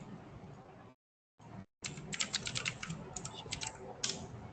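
Typing on a computer keyboard, quick irregular key clicks that start after a short gap and continue rapidly, close and fairly quiet over faint room noise.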